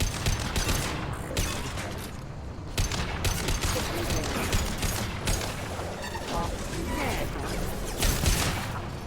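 Mass Effect 2 video game combat: rapid bursts of gunfire with mechanical clatter and crashes, loud and continuous, mixed with intermittent synthetic voice lines.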